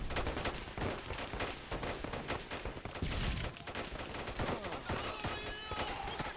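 Gunfire in Call to Arms, a modern combat game: dense, rapid bursts of machine-gun and rifle fire crackle continuously at close range, with loud overlapping shots and no pauses.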